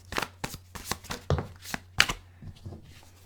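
A deck of tarot cards being shuffled by hand: repeated quick riffling bursts and soft slaps in an irregular rhythm, close and clear.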